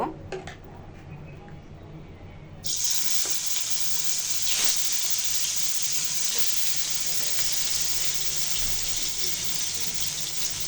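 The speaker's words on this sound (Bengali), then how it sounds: "মাছগুলো আমি সরিষার তেলে ভেজে নিব" Hilsa fish tails go into hot mustard oil in a pan. After a quiet start, a sudden loud sizzle bursts out and holds as a steady, close hiss with faint crackles, and there is no talking.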